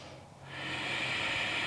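Slow, steady breath drawn during a hatha yoga pose, a soft close airy hiss that swells after a brief pause and holds, with no speech.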